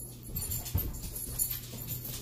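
Two pet dogs scuffling and growling at each other indoors, a low, rough rumble with occasional sharper bursts, fairly faint and continuous over steady room noise.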